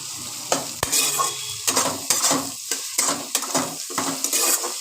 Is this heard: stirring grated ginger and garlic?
yes